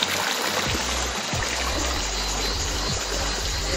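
A river near a power house tunnel rushes steadily, its broad, noisy wash continuous and fairly close, with low thumps and bumps underneath.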